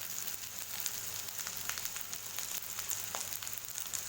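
Sauce poured into a pan of chilli paneer sizzling on medium heat, a dense steady frying hiss with scattered crackles and pops close by, loud and continuous, with no talk.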